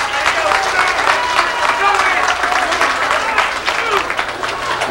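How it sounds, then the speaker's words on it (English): An audience at a live concert in a New York club applauds, dense clapping and crowd noise sustained throughout, with a voice speaking over it. "give a great big round of applause to Stuart Morris."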